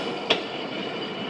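The Tezgam Express passenger train rolls along the rails with a steady, continuous rumble and one brief sharp clack near the start, heard close with no talking.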